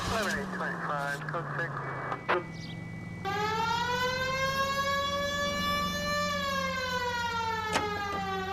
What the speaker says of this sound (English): We have a siren.